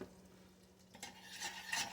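Faint scraping and stirring of melted butter and sugar in a pan, quiet at first, then a few brighter scrapes of a utensil against the pan.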